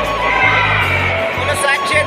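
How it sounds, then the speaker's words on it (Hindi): Devotees at Chhatarpur temple in Delhi during Navratri chant jaikaras to Mata Rani, a dense crowd roar of many voices with steady low drone and cheering swells throughout. "यहाँ पे जयकारे लग रहे हैं माता रानी के"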